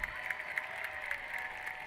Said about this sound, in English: And the crowd is loud for them.